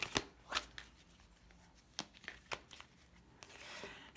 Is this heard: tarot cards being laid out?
yes